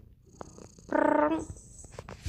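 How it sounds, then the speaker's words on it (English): A small kitten lying on someone's lap gives a short, close burst of purring that swells for about half a second in a quiet room, then fades back to soft background noise. "little Mamba Kitty's on my lap"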